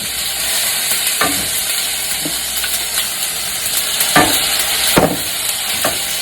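Hot oil sizzles loudly in a pan while Taiwanese fried rice cooks, with a dense, steady hiss throughout. A few clattering stirs or tosses break through at intervals.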